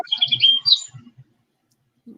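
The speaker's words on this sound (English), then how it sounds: "Oh, there are them birds again." A short burst of bright, high chirps from a bird close by, followed by a few soft low thumps and near silence.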